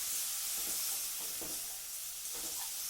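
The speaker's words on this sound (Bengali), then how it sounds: "দিয়ে মশলাটাকে আরেকটু কষিয়ে নেব যতক্ষণ না মশলা থেকে তেল ছাড়ছে" Spice paste frying in hot oil for a drumstick flower dish, a steady loud sizzle with soft periodic scraping as a spoon stirs it, close and without voices.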